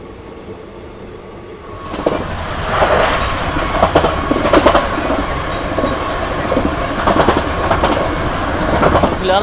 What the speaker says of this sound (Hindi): 2 मिनट होल्ड के बाद डिपार्चर हो चुका अपनी पिपरा रेलवे स्टेशन से।